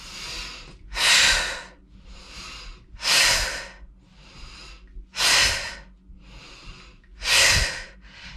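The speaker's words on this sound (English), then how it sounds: "Inhale to squat, exhale to stand." Loud, close breaths alternate between inhaling and exhaling during squat exercises. There are four strong exhales at an even, steady pace, with softer inhales between them.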